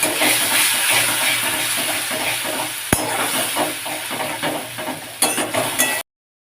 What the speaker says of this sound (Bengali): টমেটো বাটাটা নাড়াচাড়া করে নিয়ে পরিমাণ মতো লবণ দিয়ে দিলাম